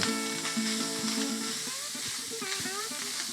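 Food sizzles in an old pan with a steady, close hiss, a few soft stirring scrapes and faint background tones, no clear talking.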